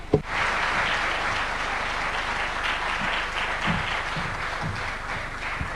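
A large crowd at a summit applauding steadily, dense sustained clapping that fills the whole stretch without letting up.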